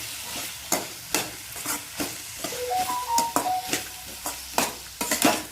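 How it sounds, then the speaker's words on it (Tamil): Vegetables sautéing for pasta chapati, with a steady soft sizzle in the pan and repeated scraping clinks of a spoon stirring against the metal, close and unhurried, no talking. "நம்ம வதக்கிக்கலாம்."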